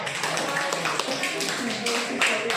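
A classroom of students in Indonesia claps together, a brisk run of close, sharp claps over a couple of seconds, mixed with voices.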